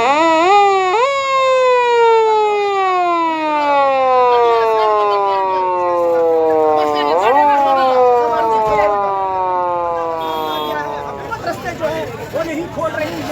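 An ambulance siren wails on a jammed Islamabad motorway, its rising and falling sweeps loud and close and repeating several times over a murmur of a gathered crowd.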